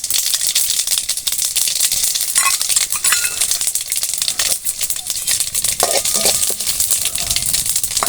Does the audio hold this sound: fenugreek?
yes